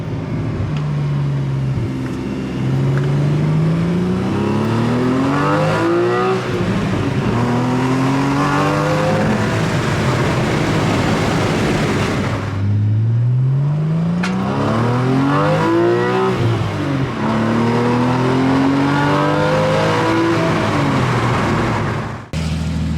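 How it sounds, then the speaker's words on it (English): A Porsche 981 S with an Agency Power catback exhaust revs hard and downshifts with auto-blip throttle. Loud, throaty engine pitch climbs and drops in repeated sweeps, with brief lifts and sharp blips between the pulls. "Sounds so good with the downshifts, especially with the auto blip."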